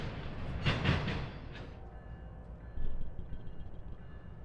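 A Norfolk Southern rerouted freight train rolls across the south end of Cordele, Georgia, with a steady low rail rumble and wheel noise, loudest in the first two seconds, then quieter, then swelling again toward the end.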